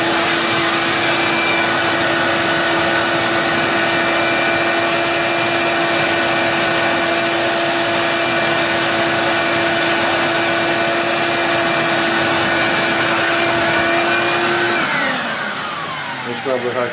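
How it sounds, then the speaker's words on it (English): A shop vacuum sucks small debris out of the intake of a VW Jetta MK5, giving a loud, continuous close-up roar with a steady whine that shifts pitch as the nozzle moves, then winds down at the end. "use a shop vac to try to suck all that little debris out in there"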